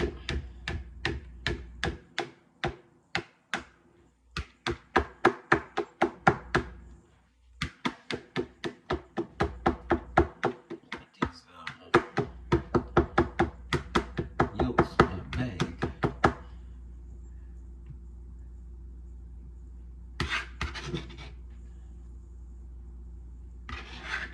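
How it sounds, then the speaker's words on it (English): A knife chops boiled egg whites for deviled eggs on a cutting board in a home kitchen, with rapid, rhythmic, close knocks in steady runs for about sixteen seconds before quieter sounds follow. "Clean egg whites. Choppity, choppity, chop, chop, chop, chop."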